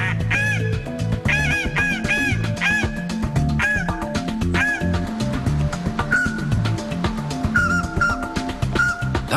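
Goose-style hunting game calls blown in quick, nasal honks and cackles, a dense run of repeated calls sounding close and loud throughout.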